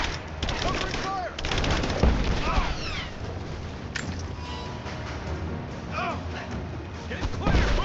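Rapid gunfire and bursts crackle through a firefight in Rise of the Tomb Raider, dense and loud shots overlapping with shouted voices and clinking debris.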